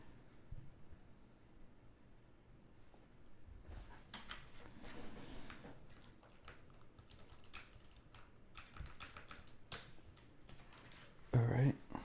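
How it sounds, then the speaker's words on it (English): Quick bursts of clicking keys come from a computer keyboard, typed in uneven runs with short pauses. The taps are close and fairly quiet. "I just had to type something."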